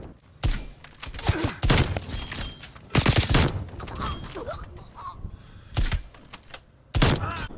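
Gunfire rings out in Call of Duty Black Ops Cold War, with several sharp separate bursts and single shots spaced apart and quieter game noise between them.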